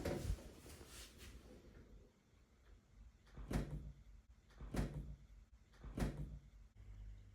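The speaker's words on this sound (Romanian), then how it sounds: "Și acum putem să închidem ușa." A refrigerator door with a newly replaced gasket swings shut, giving a few soft, muffled thumps spaced about a second apart in a quiet room.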